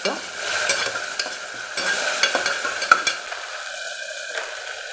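Onion and ginger-garlic paste fry for a cabbage biryani, a steady close sizzle broken by light scraping and clinking stirs that fade toward the end.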